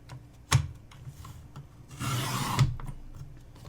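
A paper trimmer slices through a piece of paper for a Letters to Santa craft, giving a short rasping cut of about half a second after a sharp clack, in a quiet room.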